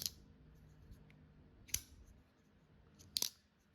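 A Demko AD20.5 Shark Cub folding knife snaps open and shut in three sharp, close metallic clicks spaced over a few quiet seconds, with faint handling noise between.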